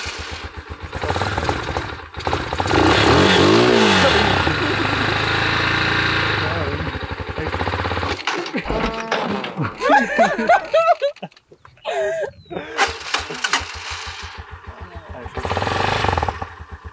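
A motorcycle engine revs up and holds a high, rising drone as a beginner rider is coached to accelerate during a riding lesson, then drops to uneven sputtering and idling while people talk nearby.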